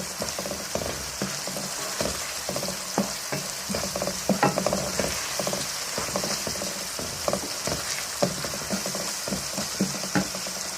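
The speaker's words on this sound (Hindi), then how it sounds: "अब इनको हम डाल के दो से 3 मिनट के लिए इसको हम भूनेंगे।" Chicken kofta curry masala frying in a pan, with a steady hissing sizzle under frequent close scraping and tapping of a spoon as it is stirred.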